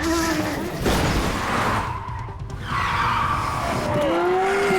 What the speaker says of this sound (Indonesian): harus kejar-kejaran terlebih dahulu. Padahal Leon sudah menggunakan mobil sport yang berada di pameran